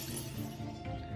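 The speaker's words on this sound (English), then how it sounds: "Glass windows shatter into chilling fragments with a nerve-wracking crash." Glass windows shatter in a dense, sustained crash of breaking fragments that fills the short moment at steady loudness, with no voices.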